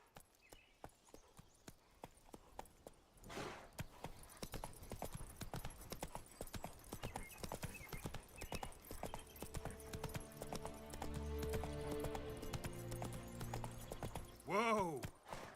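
Roach, Geralt's horse in The Witcher 3, trots with a steady clip-clop of hooves throughout, growing denser midway, and ends with a short whinny near the close; a voice speaks briefly over the hoofbeats.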